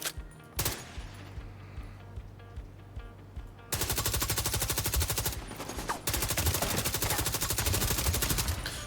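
Minigun fire in a video game: long, loud, rapid streams of shots start after a short buildup, pause briefly, then roar on again close up with no talk.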